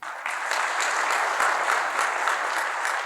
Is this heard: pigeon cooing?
no